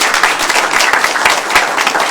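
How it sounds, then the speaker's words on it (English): Audience at a law enforcement panel event gives a short, steady round of applause, a dense wash of clapping from many hands with no talk over it. "Can we first just give them a big round of applause?"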